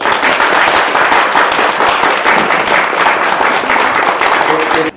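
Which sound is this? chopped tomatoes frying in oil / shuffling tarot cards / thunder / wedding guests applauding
wedding guests applauding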